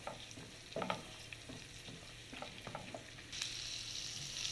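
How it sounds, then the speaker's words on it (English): Chopped garlic sizzles steadily in melted butter in a pan, a soft continuous frying hiss broken by light stirring scrapes, with the sizzle growing louder toward the end. "Once the butter is melted we are going to add chopped garlic. Saute them till it shows brown color."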